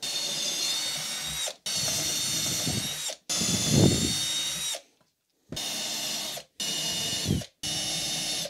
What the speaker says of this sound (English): Next I will drill holes.